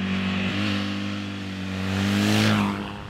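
A Midual motorcycle with a longitudinal flat-twin engine revs up close, its steady low throb rising into a louder, sharper rev near the end, with no voices.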